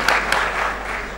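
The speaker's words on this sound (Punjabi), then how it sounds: "ਬਾਬੇ ਦੇ ਨਾਂ ਦੀ ਇੱਕ ਤਾੜੀ" Live audience applause at a Pakistani stage comedy drama, a dense burst of clapping with a couple of sharper hand claps near the start, sustained and fairly loud.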